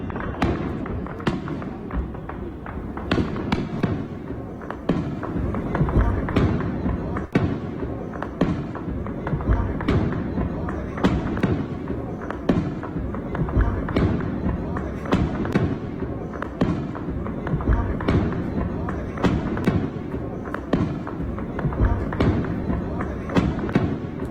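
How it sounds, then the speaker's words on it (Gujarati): Repeated dull booms and thuds from cross-border firing in Akhnoor at fairly regular intervals, sounding distant, with faint background voices. "આ ધડાકા આપ સાંભળી રહ્યા છો."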